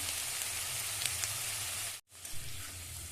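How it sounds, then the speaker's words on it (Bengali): Ground spices, cumin, garam masala, turmeric and chilli, sizzle steadily in hot oil while being stirred in a pan for a gourd and snakehead fish curry, a soft continuous crackle that cuts out briefly near the end. "নেড়ে চেড়ে ভালো করে মশলাটাকে কষিয়ে নেবো কিছু সময়"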